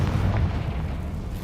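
A Confringo blasting spell detonates in Hogwarts Legacy, a single muffled boom with a low rumbling tail, loud and close, with no talk over it.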